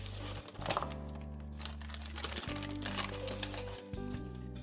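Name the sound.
peeling parchment paper off sponge cake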